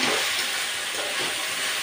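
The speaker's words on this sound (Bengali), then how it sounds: "আমি এখানে গাজর আর বিনসটা ভাজতেও বসিয়ে দিয়েছি" Carrots and beans fry in a pan, a loud, even, close sizzling hiss that holds steady without pause.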